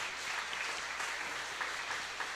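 Congregation applauding at a Korean Presbyterian church ordination service, steady dense clapping filling the sanctuary throughout.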